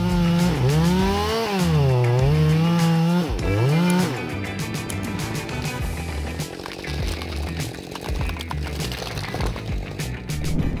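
Chainsaw cutting down a rotting fir tree on sloping ground, its loud engine revving up and down in wavering pitch swings, then settling into a rough, steady cutting drone as the chain bites into the wood.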